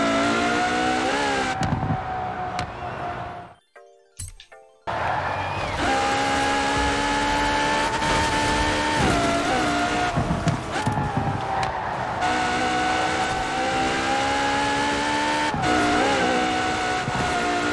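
Ferrari FXX in Forza Horizon 4, its engine wailing loud and high under hard acceleration, with a brief drop near the start before climbing again through the gears and holding a sustained roar to the end.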